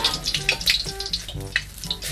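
Shallots fry in hot oil with a lively bubbling sizzle, close and moderately loud, with faint splashy crackles through the short stretch.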